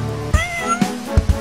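A cartoon cat meows in the video game Super Space Catpug, a single drawn-out pitched meow, loud and close, with short thumping game effects beneath it.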